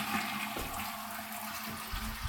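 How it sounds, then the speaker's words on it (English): Toilet in a newly renovated bathroom flushing, a steady close rush of water that stays loud throughout. "Toilet flushes."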